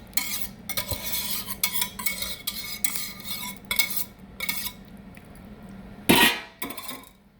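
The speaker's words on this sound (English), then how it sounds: "Just kind of stir it around in there." Gravy is stirred into a chuck roast in a pot, with repeated scraping and clinking strokes of a utensil against the metal, soft and rhythmic, ending in a louder clatter.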